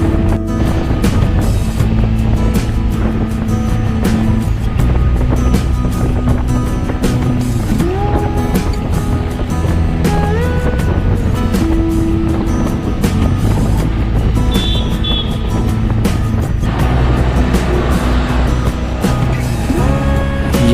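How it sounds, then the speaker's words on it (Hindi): Loud, constant wind buffeting roars over a running engine whose pitch rises and falls, on a moving Suzuki V-Strom 650 XT motorcycle. "सो बहुत ही विंड ब्लास्ट आ रहा था बाइक में"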